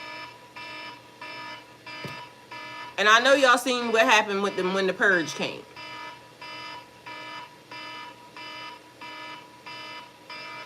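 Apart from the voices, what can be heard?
alarm ringing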